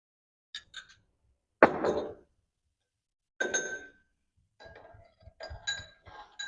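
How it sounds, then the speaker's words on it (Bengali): A spoon clinks against tea cups while milk is added during tea preparation, several separate bright chinks and taps spread across a few seconds with quiet gaps between them, close and moderately loud. "আমি 1 চামচ করে প্রথমে দিয়ে দেখি আগে,"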